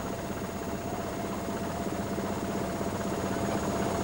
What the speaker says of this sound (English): I went by a hired military helicopter.